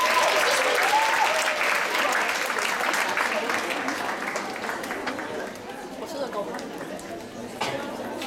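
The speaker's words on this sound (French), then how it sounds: "Alors, on applaudit." A crowd applauds with dense clapping that gradually thins and fades, with voices chattering underneath as it dies down.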